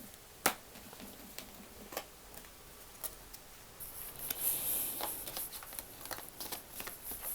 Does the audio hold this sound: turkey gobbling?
no